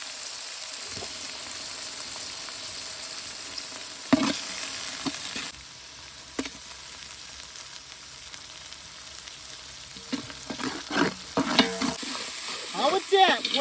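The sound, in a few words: stirring and sautéing food in pan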